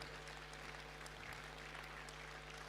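An audience at a British Alpaca Society show ring applauds, a very faint, even patter of clapping heard at a distance against a low background hum.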